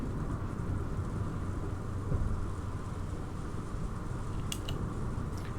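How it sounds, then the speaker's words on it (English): Thunderstorm sound effect from the Umineko visual novel: a steady, dense roar of heavy rain with a low rumbling thunder swell, continuous and fairly loud throughout, with no voices. "At that time, the sound of the thunder rang out, giving the illusion that the lightning had accepted the ring."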